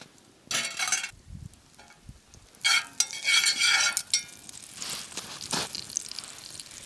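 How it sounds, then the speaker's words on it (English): Eggs cook in a buttered frying pan over a campfire, with soft sizzling under repeated scraping and stirring clatters of a utensil against the pan, close and intermittent. "put our frying pan on, put some butter in to get it warming up, then we're going to add our eggs and our salsa and let it cook."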